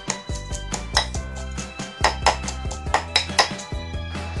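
Curry paste mixed with a spoonful of shrimp paste is pounded in a mortar for stir-fried sator beans with minced pork, making a quick, rhythmic series of close thuds with ringing, clinking edges.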